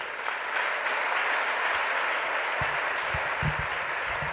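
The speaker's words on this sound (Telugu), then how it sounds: "అందరూ కూడా దైవజనులకు, ఈ ప్రాంత సేవకులకి చప్పట్ల ద్వారా మీ ఆహ్వానాన్ని తెలియచేయండి." Steady, dense applause from a large audience at an outdoor church prayer festival gathering in Moinabad, sustained evenly from start to finish with no talk over it.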